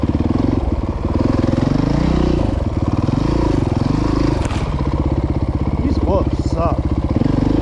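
Dirt motorcycle engine revving continuously on a rough trail at a motorcycle riding area, loud and close throughout, with throttle surges and a rider talking over it.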